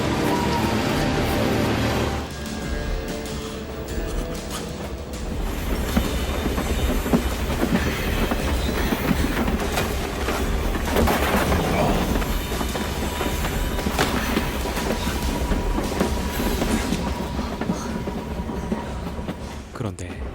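A train runs on rails in a thriller film, giving a long, continuous rumbling roll with clattering wheel noise that swells and fades slightly, mixed with other soundtrack sound.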